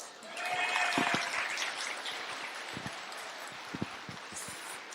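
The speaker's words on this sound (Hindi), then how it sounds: "सारे लड़के जोर जोर से लड़कियों के लिए पहले तालियां बजाओ।" Boys in an audience clap for the girls, a modest burst of applause that rises at first and then thins into scattered claps, heard from a distance with faint background murmur.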